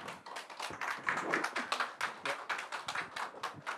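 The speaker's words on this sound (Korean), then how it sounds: "밝은 표정으로 큰 박수로 교수님 모시도록 하겠습니다" A room full of people at a real estate workshop lecture claps steadily, a dense, lively round of applause that holds at a fairly even level throughout.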